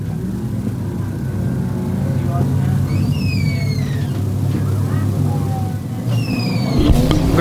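Sport mod race cars run on a dirt track, a loud, steady roar of engines and rumble from a distance, with whistling high tones from passing cars and a sharper burst near the end, while a commentator talks over it.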